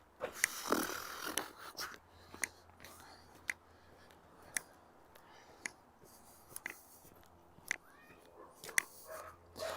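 A few dogs bark faintly in the distance along a snowy city sidewalk in Regina in December. Sharp yaps come through sparse street ambience with soft background voices.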